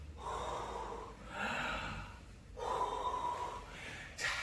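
Slow, deep breaths for a children's balloon-play exercise, with loud, close inhales and exhales in an even rhythm, about three full breath cycles, alone and without talk.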